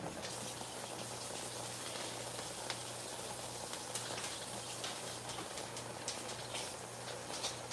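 Beef stew cooks on high heat in a pot, giving a steady, dense sizzle and bubbling that holds at an even level throughout, with no voices over it.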